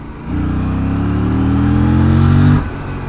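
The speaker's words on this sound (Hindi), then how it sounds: "यहाँ से अगर मैं पिकअप करूँ और मैं स्पोर्ट मोड में चला रहा हूँ" A nearby Aprilia RS 457 motorcycle engine revs up in sport mode, its pitch climbing steadily for about two seconds before easing off.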